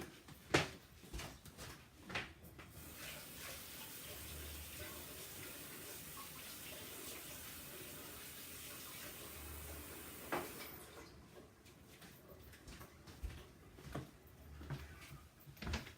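Water runs steadily from a tap for several seconds as something is rinsed off, with a few clunks and handling noises before and after the flow.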